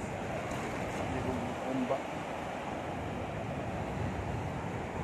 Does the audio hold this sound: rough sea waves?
yes